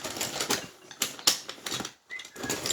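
An eraser scrubbing back and forth on paper in a notebook cover project, close and fairly loud, in quick bursts of rubbing with brief pauses between.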